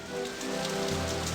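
Steady rain pours down in a video game, a dense hiss of drops on a surface with no voices.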